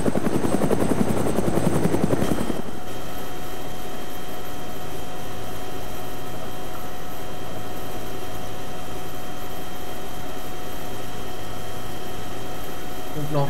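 A helicopter in the DayZ Napf Overpoch mod roars as steady, dense rotor and turbine noise, loud and continuous after a brief louder chopping burst at the start.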